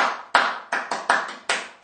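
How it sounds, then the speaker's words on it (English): Hands clap a rhythmic pattern of six sharp, close claps with uneven spacing, heard alone. "if I clap this one, play it on your knees"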